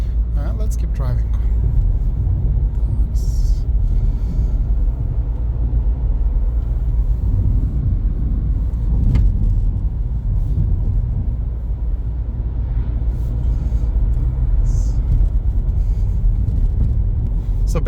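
A Skoda Kamiq 1.5 110 kW on the road produces a steady low rumble of engine and tyre noise from inside the cabin, continuous throughout with a few faint knocks, under a talking voice.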